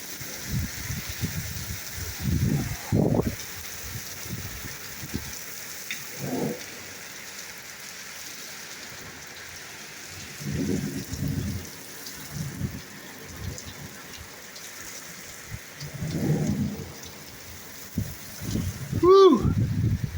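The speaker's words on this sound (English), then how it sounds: "Yes, this storm means business." Steady heavy rain hisses through a thunderstorm in Ellenville, New York, with low rumbling bursts of thunder rolling in at intervals and people talking nearby.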